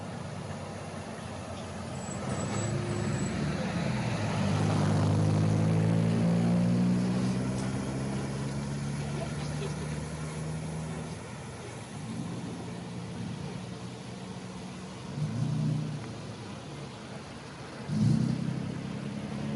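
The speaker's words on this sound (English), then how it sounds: "So if you see the truck didn't stop, it didn't have to stop." A truck drives past on a city street, a broad engine rumble swelling over several seconds and then easing away, followed by a couple of short thuds, heard through a replayed recording in a council chamber.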